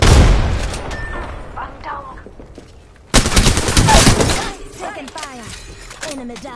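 Rapid gunfire crackles in Apex Legends, a burst at the start and a heavier volley midway, loud and close, mixed with game voice callouts and effects.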